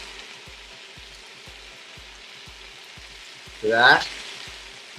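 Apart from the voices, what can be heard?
toasted sesame oil sizzling in a hot pan with broccoli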